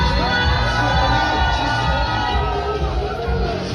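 Wedding guests cheering, whooping and shouting for the newlywed couple, a loud continuous crowd roar over booming reception music, with excited yells rising throughout.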